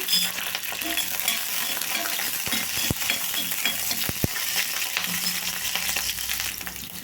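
Cut green chillies sizzle and crackle in hot oil in a pan, a dense steady hiss with a few sharp pops and occasional stirring scrapes, close and continuous throughout.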